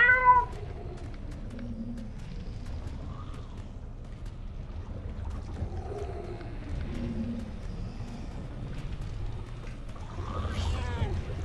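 A cat meows in the video game Murdered: Soul Suspect, inside a church attic, with a plaintive cry at the start and more meowing near the end over a low ambient game background.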